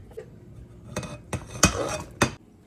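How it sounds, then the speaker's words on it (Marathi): A lid going onto a large bottle of homemade ghee, heard as several distinct clinks and knocks spaced through a quiet kitchen. "आता मी याला झाकण लावून ठेवते."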